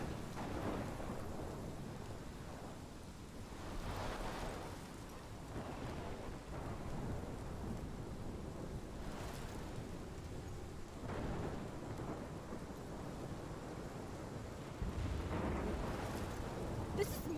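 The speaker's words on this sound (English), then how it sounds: "This is my storm" A thunderstorm in the video game Life is Strange, with steady heavy rain and repeated low rolling thunder rumbles swelling and fading, loud and continuous throughout.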